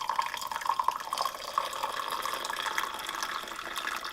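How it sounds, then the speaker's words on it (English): Pine needle tea pours from a pot into a cup off grid, a steady liquid trickle with small splashes running throughout, fairly close and alone. "once your tea is done steeping, you can go ahead and pour it"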